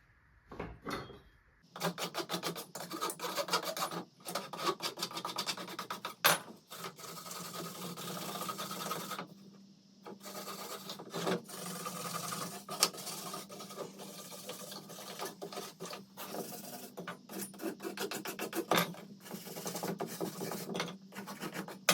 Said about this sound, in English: with this flush cut saw, add some saw marks into it, and with this wire brush to give it that rustic look